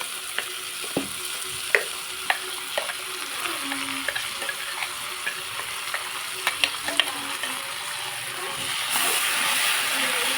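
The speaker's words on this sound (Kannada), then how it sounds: "ಇದು ಎಣ್ಣೆಲಿ ಸ್ವಲ್ಪ ಫ್ರೈ ಆಗಿದೆ. ಈಗ ಇದಕ್ಕೆ ಹಾಕ್ಕೊಂಡಿರೋ ಮಸಾಲೆ ಹಾಕೊಳ್ಳೋಣ." Masala frying in oil in a pan for a potato and chickpea gravy: a continuous close sizzle broken by sharp scraping clicks of a spoon stirring, swelling louder toward the end.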